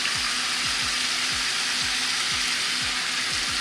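Shrimp and lobster seasoned with salt, pepper and Cajun seasoning sizzle loudly in a pan, a steady bright hiss broken by repeated scraping strokes as the seafood is stirred.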